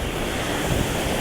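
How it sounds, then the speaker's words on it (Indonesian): Steady roar of ocean surf crashing close by, continuous and loud, with gusty wind buffeting the microphone. "ombaknya lumayan besar dan langsung pecahnya di pinggir pantai"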